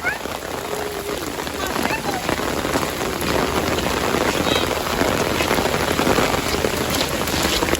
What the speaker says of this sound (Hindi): बहुत तेज बारिश हो रही है जी, शायद वीडियो में इतना पता नहीं।